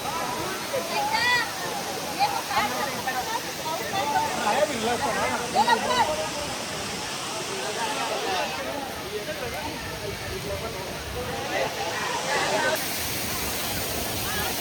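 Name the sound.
waterfall flowing strongly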